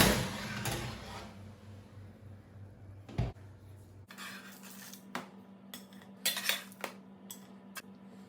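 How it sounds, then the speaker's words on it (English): A baking tray of honey biscuits pulled from the oven, with clattering metal, a sharp clank and rattling knocks of the tray and oven rack, up close and without talk. "it's time for me to get them out of the oven"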